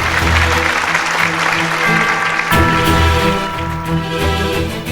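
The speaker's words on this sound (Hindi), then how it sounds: "जोरदार तालियां हो जाएं।" Audience applause on a Hindi television drama set, loud and continuous for five seconds with dense clapping, a brief dip midway and faint music tones underneath.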